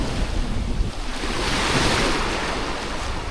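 Ocean surf washing onto White Sand Beach in Khao Lak, Thailand, a steady broadband wash of breaking waves close by, with some wind buffeting the microphone and no talking.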